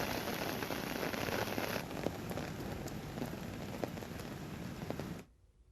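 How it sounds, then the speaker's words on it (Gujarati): Steady heavy rainfall in Amreli city, India, pattering on surfaces, a constant hiss of drops that cuts off abruptly near the end. "અમરેલી શહેરમાં સતત સવારથી વરસાદી માહોલ જોવા મળી રહ્યો છે"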